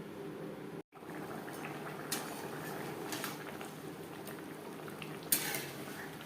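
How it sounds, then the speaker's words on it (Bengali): Rice and cauliflower simmer in water in a pot, a low steady bubbling hiss throughout, with a couple of faint utensil clinks near the end. "চাল সেদ্ধ হওয়া পর্যন্ত অপেক্ষা করব।"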